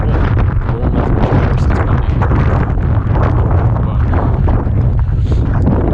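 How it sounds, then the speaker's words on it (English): Strong wind roars and buffets the microphone continuously, a loud rumbling gusty noise with no pauses. "it's windy"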